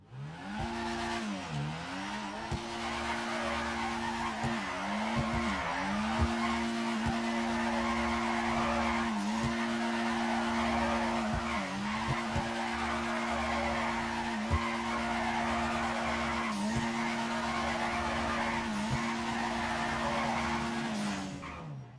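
Car tires skid and squeal continuously while drifting in GTA 5, looping tire screech with repeated pitch dips at each direction change over steady engine drone, loud and close throughout.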